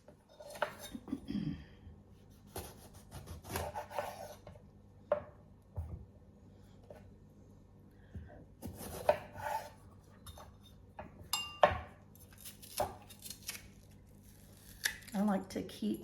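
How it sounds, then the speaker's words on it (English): Vegetables being chopped on a board in a home kitchen, with irregular knife taps and clatter of utensils and dishes, close and moderately loud, under intermittent talk. "So I'll get all these things chopped up, the veggies chopped up and ready to go."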